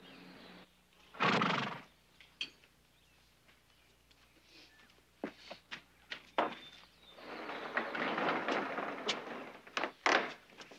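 A horse gives a loud, shaky whinny, followed by scattered thumps, clops and shuffling sounds nearby; a longer rustling stretch comes later.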